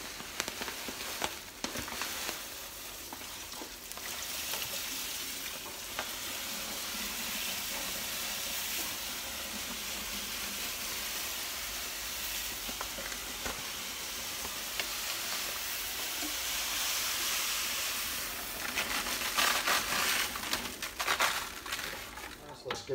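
Pale malt grain poured into a heated BrewTools B80pro mash tun while brewing a Fullers London Porter, giving a steady hissing, rushing pour that stays moderately loud throughout and swells toward the end.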